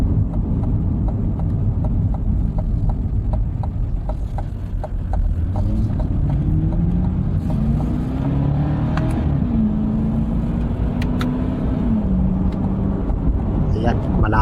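A 2020 Chevrolet Corvette C8 drives on the road near Baguio City, its engine note rising and falling over a steady hum of road noise. A voice talks throughout.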